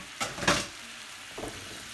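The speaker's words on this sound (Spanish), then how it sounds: "vamos a poner un poco de aceite y vamos a agregar el ajo en el aceite" Garlic frying in oil in a pan sizzles softly and steadily, broken by two quick scraping stirs near the start and a fainter one later, close up with no talking.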